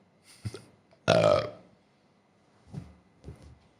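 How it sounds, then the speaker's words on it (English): A loud burp goes straight into a microphone, one sharp guttural belch surrounded by a few quieter short noises and breaths. "I'm going to apologize for that burp into the mic right now."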